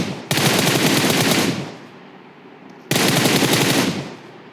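Two long bursts of rapid automatic gunfire from a video game M24 rifle, loud and close, separated by a short lull with a fading tail, no talking.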